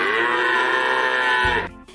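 A single long, steady cow moo, loud and close, holding for over a second before cutting off abruptly.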